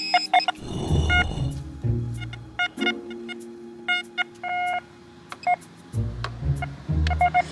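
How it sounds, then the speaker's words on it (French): Metal detector beeping outdoors during a treasure hunt, with repeated short electronic tones in stuttering bursts of varied pitch, some sustained, mixed with low rumbling handling noise and a few faint voices. "En plus, c'est même pas mon détecteur de métaux"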